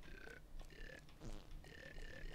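A game character burping in GTA, several drawn-out croaky belches in a row with short gaps between them, fairly quiet against a low background hum and with no speech.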